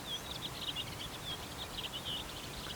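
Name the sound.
birds singing outdoors in Estonian countryside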